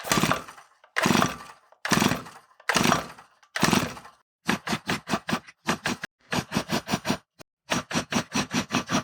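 Pull-starting an old Stihl chainsaw, just serviced with a cleaned air filter and fresh fuel: five long rasping starter-cord pulls come first, then several bursts of rapid rattling cranking, close by and alone, with the engine never catching.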